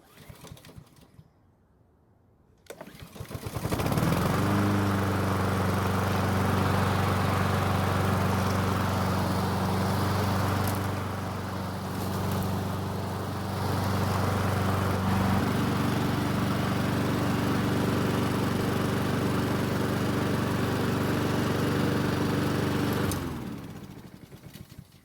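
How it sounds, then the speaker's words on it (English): A Honda lawn mower's small engine sputters briefly on the rope pull-start, then catches and roars into a steady, loud idle that runs for about twenty seconds before shutting off. "it did take 2 pulls on the rope to get it to start"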